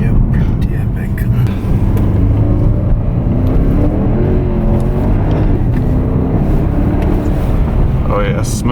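A Porsche Panamera Turbo drifts on slick roads, its engine and road noise a steady, loud in-cabin rumble throughout with people talking over it.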